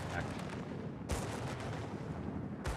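Anti-aircraft flak fire in a naval combat video game, shown as dense crackling bursts with two sharp, booming hits standing out above a constant din of gunfire.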